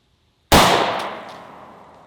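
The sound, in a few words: Hi-Point pistol firing 115 grain Sig V Crown round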